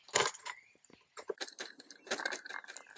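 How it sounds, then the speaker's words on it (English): A putty knife scrapes old, hardened glaze out of a window frame, making close, irregular scratchy strokes and crumbly crunches separated by brief pauses. "grab your putty knife and scrape out all the old window glaze"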